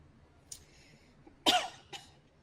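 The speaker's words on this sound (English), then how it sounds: "Don't know why I started coughing again today" A few separate coughs, one faint and short, then a loud harsh burst followed by a smaller cough, close by with quiet background.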